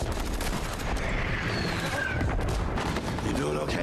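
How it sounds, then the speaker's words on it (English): Gunfire and screams from the Hacksaw Ridge battle scene, a dense continuous din of rapid shots, blasts and shouting voices, loud and chaotic throughout the short stretch. "Just you hear the gunfires and screams"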